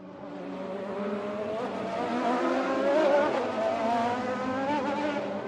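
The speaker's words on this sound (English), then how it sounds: "Filled with only intense drifting sounds" Race cars drifting on a racetrack at night, engines roaring with rising and falling revs and squealing tires, heard at a moderate distance as one steady, swelling stretch of noise with no voices.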